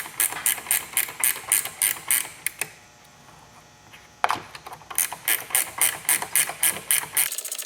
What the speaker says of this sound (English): Okay, so we're gonna try to back this nut off of here. Using a 3/8